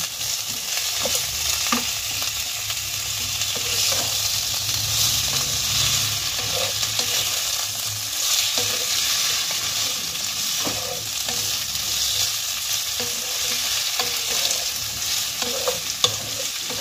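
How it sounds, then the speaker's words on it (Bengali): Boiled chicken pieces fry and get stirred in a hot pan, a steady close sizzle running throughout with scraping spatula strokes at irregular intervals and no talking. "এই সময় আমি চিকেনের সিদ্ধ করা পিসগুলো এতে দিয়ে দেবো, দিয়ে এর সঙ্গে ভেজে নেব।"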